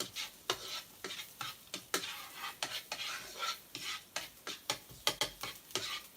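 Garlic sautéing briefly in a pan for homemade pizza sauce, with a soft sizzle under repeated rhythmic scrapes and taps of a spoon stirring across the pan, fairly quiet and close.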